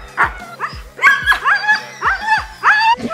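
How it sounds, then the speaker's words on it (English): Sled dogs lined up before a run in Estonia bark, yip and whine excitedly in loud overlapping bursts, close by, at a rapid, eager pace. "Almost ready to take off, and the dogs are getting very excited."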